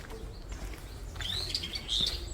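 Birdsong along a forest path: a few bright chirps and short tweeting phrases rise in the second half, moderately near, over a low steady outdoor rumble, with no talk.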